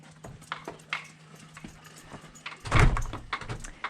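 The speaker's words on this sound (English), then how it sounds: "We're going through the Griffin door." The Griffin door at Alpha Omega's Columnhenge Temple opens around sunrise: scattered close knocks and creaks, then one loud clattering thud and softer rattles as it swings.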